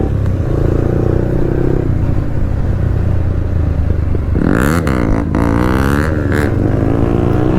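Motorcycle engine droning loud and close on a road during a wheelie, a sustained rumble that swells into rising revs toward the end.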